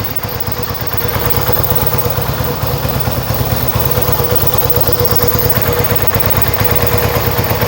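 A Yamaha XS1B motorcycle engine idles steadily on its own, a rapid even chuffing and mechanical clatter that holds loud and close throughout with a slightly slow, uneven beat.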